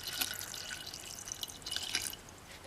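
Water trickles and splashes softly into a container for cleaning metal-detecting finds, with faint drips over a few seconds in a quiet setting.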